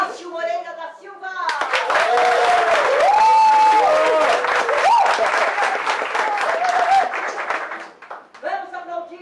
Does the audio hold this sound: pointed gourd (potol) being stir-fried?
no